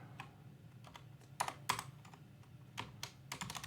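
Irregular bursts of typing on a computer keyboard during SQL coding, with quick close key clicks in short clusters and pauses between them, fairly quiet and with no talking.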